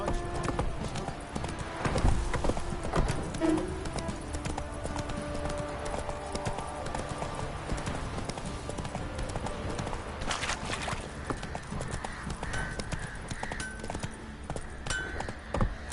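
The horse Roach in The Witcher 3 video game gallops with a steady, rapid clip-clop of hooves, close and continuous throughout, with no talk.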